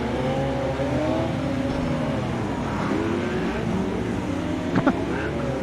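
A Lamborghini in a racing video game roars continuously with a loud, steady engine drone, interrupted by brief tire-squeal and skid sounds near the end.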